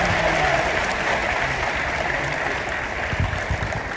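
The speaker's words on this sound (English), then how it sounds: "Keep clapping." An audience at a Ghanaian event claps steadily in a thick, even wash of applause that stays loud throughout with no pauses.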